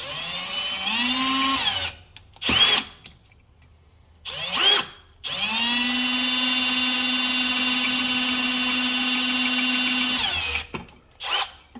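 A power drill with an 11/64 bit bores out an old brake line fitting on a 1972-1993 Dodge truck, whining in several bursts that rise in pitch, with a long steady run, short stops and brief catches between.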